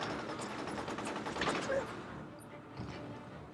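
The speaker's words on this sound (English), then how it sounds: "this shotgun, I'm liking it" Shotgun blasts and other gunfire crackle through a noisy, chaotic fight in the video game Mercenaries: Playground of Destruction, fairly muffled and blending into a continuous wash of combat.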